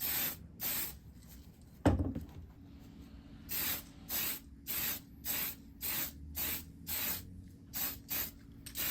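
Tamiya Surface Primer sprayed from an aerosol can onto a 1/25 scale Dodge Charger model car body, a series of short hissing bursts in steady rhythm, close and clear, with a single knock near the start.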